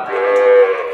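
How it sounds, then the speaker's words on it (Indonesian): A Simmental calf gives a single close, loud moo lasting about a second, a sustained nasal call that swells and fades. "Mas Budi bawa pedetan simental ini"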